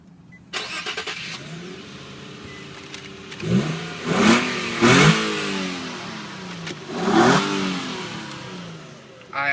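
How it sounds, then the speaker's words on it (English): A 2011 Infiniti G25 engine revs through its exhaust, with a few rising throttle blips and a smooth idle settling between them, close and loud with no voices. "This one has a really nice exhaust."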